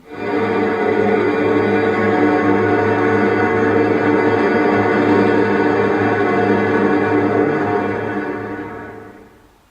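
A dense, sustained wall of 40 electric guitars rings together in a thick droning chord, holding steady before slowly fading out.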